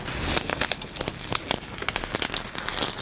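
Transfer artist paper being peeled slowly off fabric after cooling, a close, irregular run of crackling and crinkling snaps over about three seconds.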